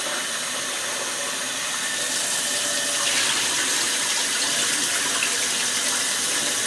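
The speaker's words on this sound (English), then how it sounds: "Kind of gently swish the rice around." Rice being rinsed in a pot of water for Japanese chicken curry, with a continuous rushing, splashing water sound, steady and close, growing slightly louder partway through, no talking.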